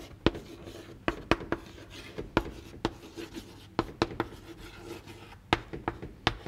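Pen writing the answer to a physics problem on paper, giving quiet scratchy strokes punctuated by sharp taps, irregular and close with no speech.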